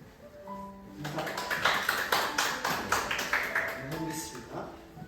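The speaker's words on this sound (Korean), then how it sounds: "우리 힘차게 인사 박수로 우리 한번 시작해" A church congregation claps together in greeting, a burst of rhythmic hand claps that builds and continues for several seconds, with a person speaking over and around it.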